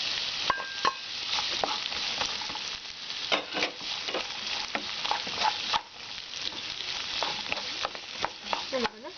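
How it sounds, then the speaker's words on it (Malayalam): Carrot and green chilli sauté in a pan for Kerala-style vegetable fried rice, a steady sizzle broken by frequent sharp scrapes and taps of the stirring spoon, close up and without speech. "നമുക്കൊന്ന് വഴറ്റിയെടുക്കാം."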